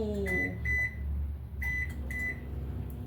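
A microwave oven hums steadily as it heats a pot, with a door opening and sets of short electronic beeps sounding near and clear.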